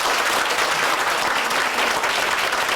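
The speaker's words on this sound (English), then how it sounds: "Could we have a big round of applause?" Steady, dense applause from an audience at a 1997 Atlanta Board of Realtors debate, loud and continuous for the whole stretch without letting up.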